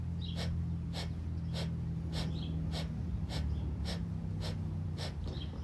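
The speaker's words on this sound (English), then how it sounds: "Inhale halfway and start your rhythmic pulses." During pranayama breathwork, a steady series of about nine short, forced exhalation pulses comes through the nose, each one a sharp, evenly spaced puff close to the mic, with a low hum constant beneath.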